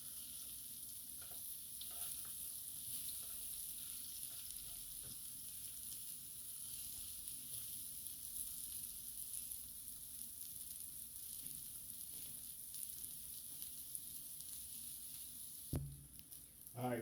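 Onions seasoned with salt sizzle and fry steadily in a hot pan for a cheesesteak, a constant bright crackling hiss with light stirring, close and alone, ending in a brief clatter.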